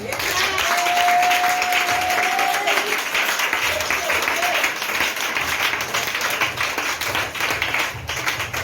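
A church congregation breaks into sustained applause to acclaim the Lord, dense clapping filling the room throughout, with a brief whistle or cheer early on and a voice audible beneath the crowd.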